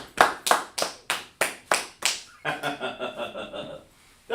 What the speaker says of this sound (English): Well, clap it up for them then.